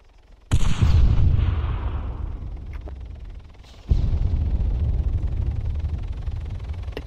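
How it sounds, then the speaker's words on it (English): A grenade blast in a multiplayer shooter game: a sudden loud boom that rolls into a long, dense rumble, then a second heavy burst a few seconds later that keeps roaring to the end. "Grenade."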